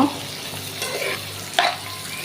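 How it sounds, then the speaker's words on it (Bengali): Soft, steady sizzling of chow mein noodles frying in a pan with egg, green chillies and tomato, broken by a single metallic clink of a utensil. "আমি এটা এখন একটু ভাজা ভাজা করে নিব।"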